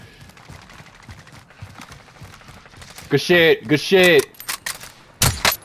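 Rapid gunfire bursts in a shooter video game crackle loudly in the second half, a few clustered volleys near the end, following muffled talk and under a voice speaking briefly.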